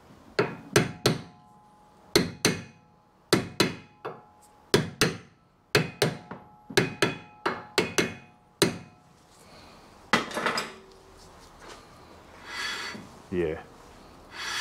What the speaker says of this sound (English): If you give the disc a tap in the middle here with a hammer